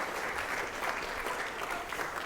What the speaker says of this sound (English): I like applause.